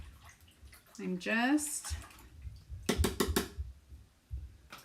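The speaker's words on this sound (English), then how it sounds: "cleaning out my brushes" Paint brushes are rinsed in a water bath after a Halloween pumpkin painting project, giving a few short, close watery splashes and sloshes between stretches of speech.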